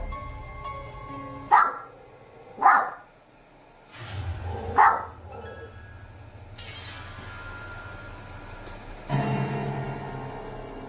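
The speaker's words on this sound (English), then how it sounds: "While the dog does seem spooked" A spooked dog barks three times in loud, separated yelps with a sharp crack between, then a lower rumbling background and a final faint sound.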